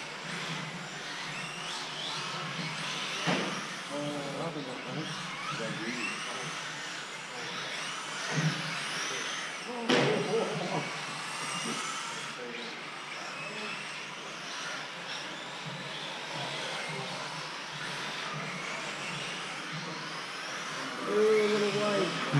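An M06 radio-controlled car at an RC racing club, its electric drive whining steadily for the whole stretch, with voices talking over it and brief louder surges near the end.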